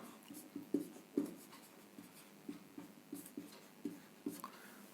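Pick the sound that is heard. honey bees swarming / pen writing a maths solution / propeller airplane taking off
pen writing a maths solution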